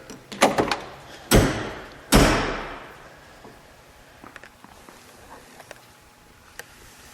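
A heavy door on a 1973 Pontiac Trans Am swings shut twice, each a loud, close thunk with a short ringing decay, preceded by a few lighter clicks and followed by faint handling taps.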